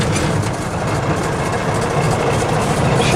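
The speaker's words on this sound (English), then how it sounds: "Okay, so I'm going to start the Jeep up. Hear it run." A 1948 Willys Jeep CJ2A with a flathead engine runs steadily at idle, not fully warmed up, a loud, continuous low rumble close by with no one talking.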